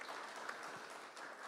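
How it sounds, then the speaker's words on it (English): A conference audience at a circular economy launch in Nairobi gives a brief round of applause, soft and distant scattered clapping that stays quiet and even. "A round of applause for what they're doing."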